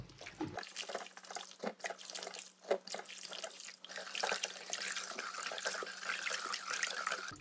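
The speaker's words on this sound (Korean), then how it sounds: "깨끗이 씻어서 아직 좀덜 씻어진 것 같아서 한번더 씻어 줄게요." Running tap water pours into a kitchen sink while young altari radishes are rinsed clean for vegan kimchi. A steady close splashing rush is broken by brief bursts as the radishes are handled under the stream.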